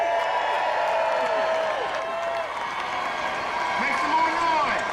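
A crowd at a sports-complex re-dedication event roars and claps continuously, a dense wash of cheering with whoops rising above it, steady and fairly close throughout.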